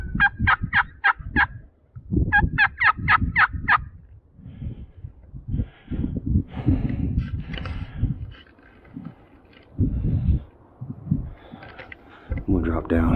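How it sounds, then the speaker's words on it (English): Wild turkey gobbles during a hunt: two quick bursts of rattling gobbling in the first few seconds, fairly clear at moderate distance, followed by rustling footsteps and a hunter talking quietly. "Bird just gobbled right there."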